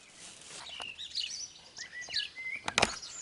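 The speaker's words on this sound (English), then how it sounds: "A little bird out there. It comes. It has its nest just up on top of the windows." Small wild bird chirping outside near its nest above a window: a series of quick, high tweets and short trills in bursts, fairly close, over light background hiss, with no talking.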